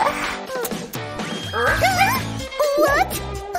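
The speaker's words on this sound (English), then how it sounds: "Who let the dog in?" A dog in a comedic skit yips and barks in quick, high bursts, mixed with loud effects and music that keep the scene busy throughout.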